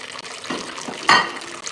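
Tap water runs steadily into a kitchen sink during washing up with fairy liquid, a close, continuous splashing hiss that swells briefly partway through.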